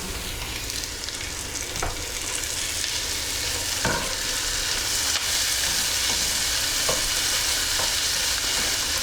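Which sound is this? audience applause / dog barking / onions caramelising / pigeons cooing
onions caramelising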